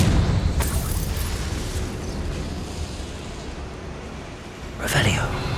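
Confringo spell explosion in Hogwarts Legacy: a rumbling blast that fades over several seconds, followed by a sharp burst near the end.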